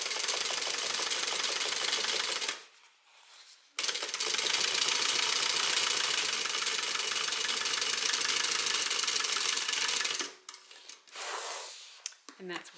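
A sewing machine stitching a bag seam runs in long, steady bursts with a short pause in between, close and fairly loud, ending with a few brief stop-start stitches.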